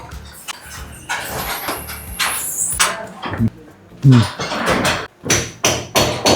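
Hammering during ongoing ceiling construction on the third floor of a building under construction: sharp, irregular knocks and bangs from close by, mixed with clatter and voices.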